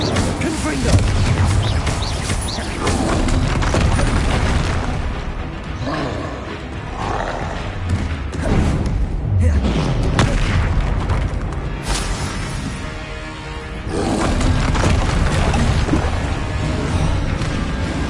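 Spell blasts from the Confringo fire spell in Hogwarts Legacy, a dense run of booming, roaring bursts that keep the game mix loud throughout, with rumbling impacts and swells rather than clearly separated single explosions.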